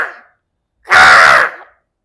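A voice imitating a crow's caw, producing one loud, harsh, rasping caw close up, preceded by a faint trailing sound.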